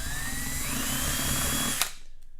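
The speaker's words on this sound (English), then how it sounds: "I'm going to start with a 1/4 inch drill bit. 1/4 inch, and just do a kind of a pilot hole through there." A power drill with a 1/4 inch bit bores a pilot hole through a plastic gas can, whining steadily at close range for nearly two seconds before it stops abruptly with a brief click.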